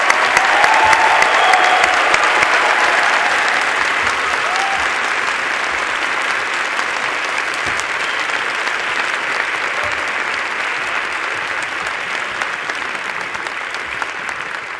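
A large crowd at a university graduation ceremony for a physics class claps in sustained, dense applause, loud at first and slowly tapering over about fifteen seconds.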